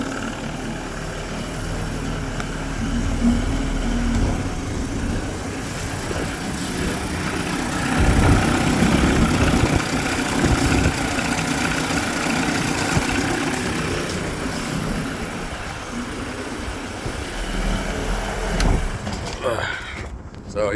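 A 1993 Evinrude 30hp short-shaft two-stroke outboard, running hot, idles steadily close by, its loud even drone and rattle holding throughout with only slight swells.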